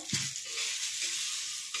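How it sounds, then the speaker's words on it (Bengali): Eggplant frying in oil gives off a steady, soft hissing sizzle with a brief low clatter near the start, fairly quiet and continuous throughout. "আর ওপাশে হচ্ছে আমাদের বেগুন ভাজা"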